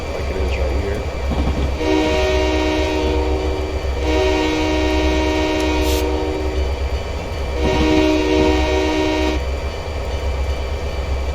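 A mixed freight train in Train Simulator 2022 on the Rio Grande route near Salt Lake City rumbles steadily and sounds its horn in several long blasts, loud and close throughout.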